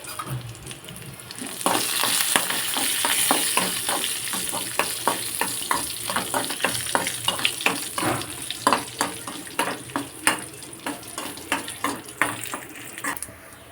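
Steady sizzle of peanuts frying in hot oil for a tempering, with repeated crackles and pops, close by, growing busier and more rhythmic as it goes on; no talking.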